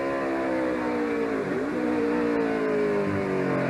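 Kyle Petty's NASCAR Winston Cup race car at Sears Point Raceway, heard on board, its engine roaring loudly and steadily, with the pitch dropping and then climbing again as it downshifts.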